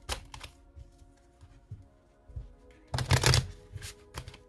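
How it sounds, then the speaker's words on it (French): A deck of oracle cards is shuffled by hand, giving soft riffling and sliding card flicks in short bursts, with the loudest, busiest flurry near the end, close by and alone. "je vais bien mélanger ce jeu"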